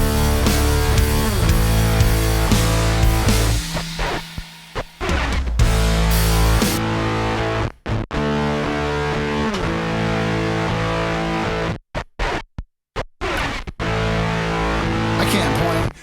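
Heavily distorted electric guitar fed through a Game Changer Audio Plasma Rack, which drives the signal through live high-voltage plasma: a loud, dense, buzzing riff with sustained chords and several abrupt cutouts and stops, no voices.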